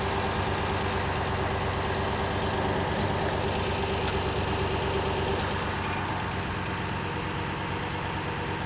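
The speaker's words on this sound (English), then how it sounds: "It runs. And it sounds like it has an exhaust leak" A high-mileage Lexus engine idles with an exhaust leak, a steady, continuous rumble with a slight ticking roughness, close by and alone without talk.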